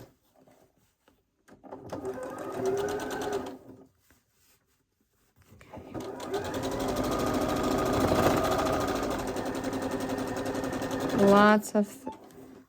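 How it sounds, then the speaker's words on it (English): Domestic sewing machine stitching a quarter-inch seam across a pieced quilt block, a steady close mechanical whir in two bursts, a short one then a longer run, with a brief pause between and a quick slowing rattle at the end. "let's go ahead and run another 1/4 inch seam"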